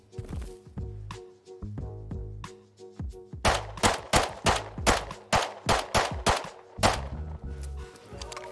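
A rapid series of sharp gunshots in the survival game Rust, about ten loud close-range reports fired in quick succession. Quieter thuds and clicks of gathering activity come before and after them.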